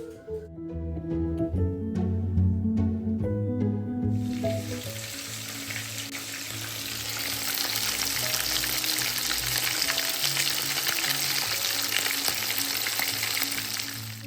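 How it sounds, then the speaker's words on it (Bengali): Fish pieces rubbed with salt and turmeric drop into hot oil, and a loud, dense, continuous sizzle takes over from a few seconds of soft tonal music and carries on steadily with no talking. "এখন আমি একটু মাছটাকে হালকা করে ভেজে নেবো"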